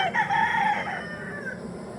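A single brood stag rooster crows once, close and loud, the call rising and then trailing off over about a second and a half against a soft background.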